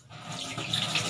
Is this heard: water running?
yes